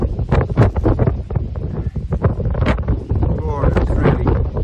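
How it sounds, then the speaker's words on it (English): Strong gale wind in the Pyrenees mountains buffets the microphone with loud, continuous roaring gusts, while a person talks breathlessly through the rushing wind. "It's very windy. Absolute gale."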